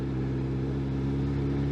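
Kawasaki Ninja ZX12R motorcycle engine on a freeway, a steady low droning hum with sustained harmonics and even loudness throughout, no talking.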